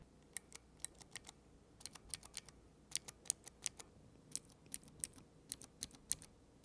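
Quick, irregular typing on the low-profile scissor-switch keyboard of an AORUS 17G laptop, a steady stream of crisp, light clicks close up with no voices.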